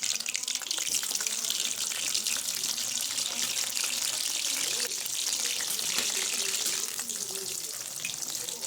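Slit eggplants deep-fry in hot oil with a loud, dense, continuous sizzle and bubbling that eases slightly toward the end, heard alone with no talking.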